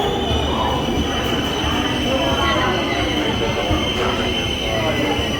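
Vikrama Simhapuri Amaravathi Superfast Express pulling into Bapatla station, a loud, steady rumble of rolling railcars with high wheel squeal and hiss running throughout, close by.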